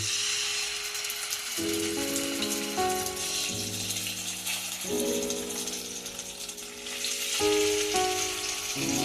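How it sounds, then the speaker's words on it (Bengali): Steady crackling sizzle of fish frying in hot oil, continuous and close, with a melodic instrumental tune playing over it. "মাছটা ভাজা হোক"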